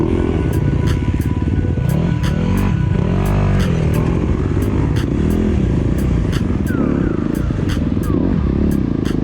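An enduro motorcycle, a small RX-type trail bike, revs loudly up a clay, root and rock hill climb. The engine note rises and falls in sustained surges with mechanical clatter throughout, close and continuous.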